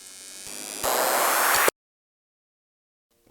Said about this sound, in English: This is an uplifter.